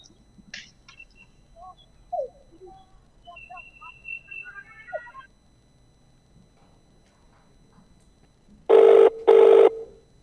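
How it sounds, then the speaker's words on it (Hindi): Telephone ringing unanswered on a call: two loud electronic rings near the end, after scattered quiet tones and faint voices. "ये देखिए आप, फिर से फोन लगाया जा रहा है क्योंकि फोन उठा नहीं"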